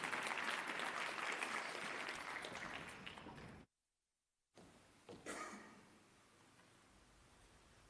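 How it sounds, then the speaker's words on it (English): Applause from a conference audience at an arbitration week plenary, a dense steady clatter of clapping that fades, breaks into a second of silence, then returns as thinner scattered claps. "Please give him a very warm round of applause"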